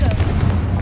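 Confringo fire spell in Hogwarts Legacy, a loud booming burst of explosive sound filling the short moment without a break.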